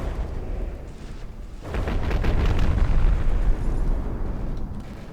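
Torpedo hits in a battleship tournament video game: a loud, rumbling blast swells after a quiet start and holds as a sustained, roaring explosion for several seconds before easing slightly.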